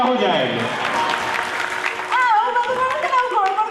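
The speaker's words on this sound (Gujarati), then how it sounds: "જોરદાર તાળીઓ હો જાય" An audience at a Gujarati comedy show breaks into applause, a steady clatter of clapping running under a voice as he keeps talking over it.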